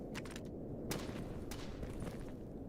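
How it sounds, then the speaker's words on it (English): Gunfire in the video game S.T.A.L.K.E.R. GAMMA: a few distant shots crackling over a dense, rumbling ambient bed, faint and scattered, with no talking. "That's gunfire from that position"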